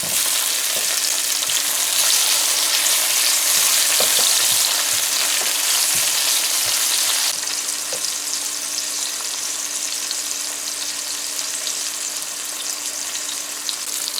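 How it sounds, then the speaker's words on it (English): Tomatoes frying with onions in a pan, a loud continuous sizzle close up with occasional stirring clicks, the hiss easing slightly partway through and holding steady to the end. "So after our tomatoes are fried up"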